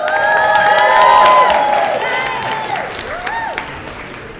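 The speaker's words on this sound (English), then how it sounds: "Let's give a round of applause for Ms. Faye Marshall." An audience at an awards gala for women honorees applauds and cheers, steady dense clapping with whoops and shouted cheers on top, loud at first and easing off toward the end.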